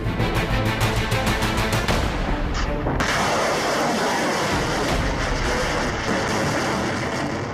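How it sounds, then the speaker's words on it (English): An Iskander short-range ballistic missile strike on a Kyiv shopping mall produces a loud, continuous, roaring rumble with heavy blast-like booms that stay dense and unbroken throughout. "this video of the Iskander short-range ballistic missile as well, being used to target a claimed foreign mercenary unit"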